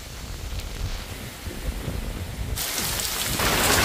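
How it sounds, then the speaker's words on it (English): Heavy rain on Koh Lanta island, Thailand, pours down steadily and grows louder and denser toward the end, a thick hiss with low rumbling underneath. "Rain, rain!"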